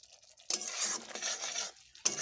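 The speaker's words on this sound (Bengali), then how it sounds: "মশলাকে একটু বেশ টাইম দিয়ে ভেজে নেব বা কষিয়ে নেব।" Spice paste for a Bengali taro (kochu) curry frying and being stirred in a pan, with a quiet lead-in followed by a steady sizzling scrape for about a second and a half, then a short gap and another burst of stirring.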